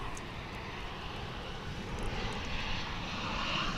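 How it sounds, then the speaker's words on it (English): An American Airlines Boeing 737-800 arrives at DFW International Airport from Austin. A faint, distant jet rumble slowly swells and grows louder over a few seconds. "this 737-800, an American Airlines flight coming in from Austin, flight 1632"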